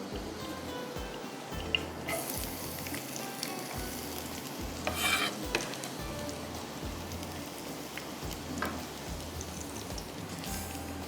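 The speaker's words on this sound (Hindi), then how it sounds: "इसके बाद इसमें 1 टेबल स्पून के जितना ही हम डालते हैं गार्लिक।" Garlic frying in about a tablespoon of hot oil for a Pakistani channa paye tarka, a steady close sizzle with soft crackling bursts and scraping stir strokes throughout, no talking.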